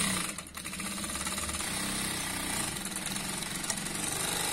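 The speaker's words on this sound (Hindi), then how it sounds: "तो हम सबसे पहले मशीन के ऊपर जाएंगे और आपको यहाँ पे एक सिलाई लगा के दिखाएंगे" A sewing machine stitches a seam on a Punjabi dress in a fast, continuous mechanical whirr, loud and close with a steady rhythm throughout and no talking.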